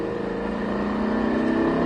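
A race car on the Circuit de Haut Saintonge accelerates hard at full throttle, its engine giving a loud, continuous, steady drone up close, with no voices.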